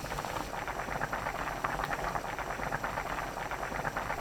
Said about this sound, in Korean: 순두부 넣고 센 불로 1분 30초 바글바글 끓여줍니다.